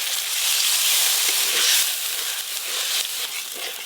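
Fried paneer pieces go into butter masala in a pan over a clay stove, producing a continuous, moderately loud sizzle that swells briefly in the middle.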